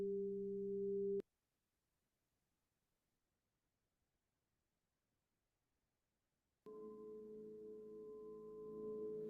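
A steady pure meditation tone for Om Mani Padme Hum sounds briefly, then silence for several seconds. A richer sustained tone follows, moderately loud and alone.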